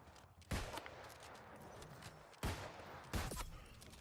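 Three sharp gunshot bursts in a shooting video game, at about half a second, two and a half and just past three seconds, each loud and followed by a short decay over a steady low background.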